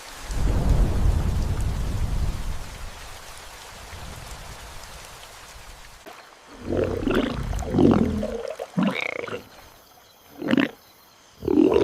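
A prehistoric thunderstorm with rain: a deep, loud rolling rumble of thunder over steady rainfall for several seconds, then sharper nearby cracks and crashes breaking through in bursts.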